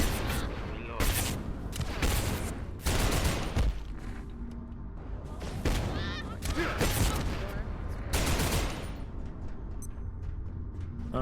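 Loud bursts of gunfire from the Abiotic Factor video game crack repeatedly in close, clustered volleys, with a voice talking briefly between shots.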